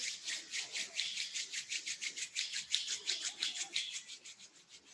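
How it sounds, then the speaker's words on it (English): Palms rub briskly back and forth in a quick, even rhythm of about five strokes a second, close and clear with no talking. "Gently bringing the hands together and beginning to rub the palms, creating some heat."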